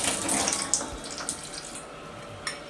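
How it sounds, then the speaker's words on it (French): Water poured into a pot of crushed eggplant, chili pepper and tomato gives a steady splashing, running-water wash, close and moderately loud, with a few small clinks and splashes over it as it eases off. "On va écraser et je vais ajouter un peu d'eau."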